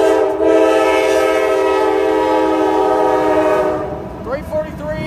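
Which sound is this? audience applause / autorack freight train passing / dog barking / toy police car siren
autorack freight train passing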